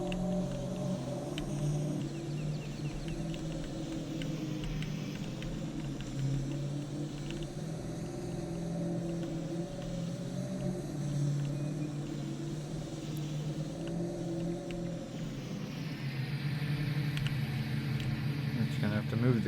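A camper being driven back to a facility: a steady engine drone and road rumble heard from inside the cab, continuous throughout, with a voice talking over it.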